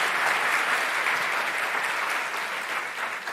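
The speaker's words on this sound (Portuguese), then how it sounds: "Uma salva de palmas aí para os nossos representantes." A church congregation claps in sustained, dense applause, fairly close and even throughout the few seconds, with no talking over it.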